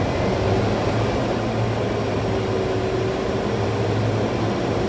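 A Lancair Evolution's propeller engine at cruise RPM in a flight simulator, giving a steady, even drone with a constant hum that stays level throughout and has no talk over it.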